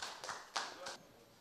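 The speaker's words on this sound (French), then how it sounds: "Nous allons applaudir la maman et" Applause at a French political party rally, a short burst of clapping heard at a distance and fairly faint, with a couple of louder slaps standing out.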